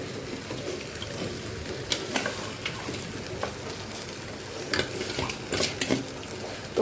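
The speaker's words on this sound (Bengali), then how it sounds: "আলু ভাজাটা আমি এখন দিয়ে দেবো। আলু ভাজাটা একটু কষিয়ে নিই।" Fried potatoes being stirred and sautéed in a pan, with a soft steady sizzle and scattered scraping clinks of a spatula against the metal, moderately close with no talking.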